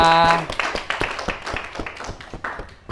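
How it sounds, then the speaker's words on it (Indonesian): A short burst of hand clapping from a classroom group after a student presentation, a quick patter of claps that thins out after a couple of seconds, with a voice briefly audible at the start. "berikan tepuk tangan"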